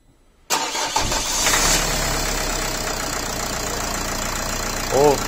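A Nissan X-Trail 2.0 dCi diesel with a knocking piston cranks and catches after a brief silence, then keeps running with a rough, clattering idle close by, and a voice comes in briefly near the end.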